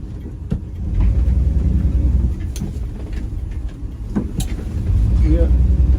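A Dodge D150 pickup truck drives along a road toward a hill, its engine a steady low rumble under road and wind noise, with a few faint clicks and knocks and brief voices in the background.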